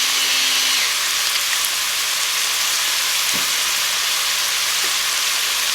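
Ground beef frying in a pan for sloppy joes, a steady close-up sizzle and hiss that holds unbroken throughout, with a few faint clinks and no talking.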